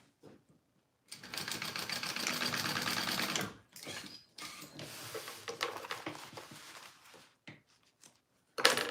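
A sewing machine bastes D-rings onto a bag piece in two long runs of rapid, steady needle chatter split by a short pause, close and clear, then a brief final burst.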